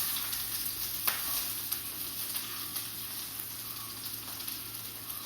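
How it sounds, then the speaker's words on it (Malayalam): Sliced onions, added after dried red chillies, fry in hot oil in a pan with a continuous close sizzle, punctuated by a few light clicks of a spoon stirring. No one speaks. "സവോള ഇട്ടിട്ട് നമുക്കൊന്ന് ഇളക്കി കൊടുക്കാം."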